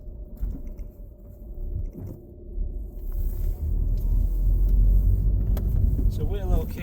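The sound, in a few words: Volkswagen Golf 2.0 TDI car driving over bumps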